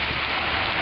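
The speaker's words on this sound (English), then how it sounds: "caught in the rain." Heavy rain pours down at a bus stop, a dense, steady hiss of drops hitting surfaces close by with no letup, and no voices over it.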